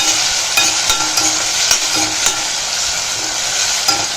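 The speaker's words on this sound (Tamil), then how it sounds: "ஒரு பெரிய வெங்காயமாக ஒன்று, 2 தக்காளி, சின்ன தக்காளியாக 2 போட்டு இது நல்லா வதங்கட்டும்." Onion and tomatoes sautéing in a pan, with steady frying crackle and scattered sharp stirring clicks and scrapes throughout, close and fairly loud with no talking.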